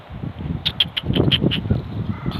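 A bird calls outdoors in a short series of about six rhythmic, crow-like caws over a steady broadband background, fairly close and moderately loud.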